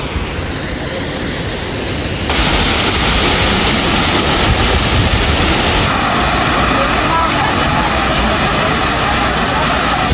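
Athirapally waterfall in Kerala roars steadily and loudly from close by, a dense, unbroken rush of falling water that swells in intensity after a couple of seconds.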